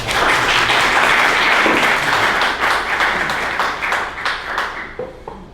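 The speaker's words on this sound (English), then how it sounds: "Can you do your round of applause?" Audience applause at a hiring-resources event fills the space with dense, loud clapping from the start, then thins and fades toward the end, with a few faint voices mixed in.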